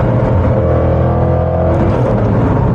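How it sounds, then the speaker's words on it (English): Supercharged 550-horsepower engine of a Jaguar F-PACE SVR accelerating on a highway, a loud continuous engine roar with steady rising harmonics heard from inside the car, no talking. "And the response from the supercharged engine is something to be experienced."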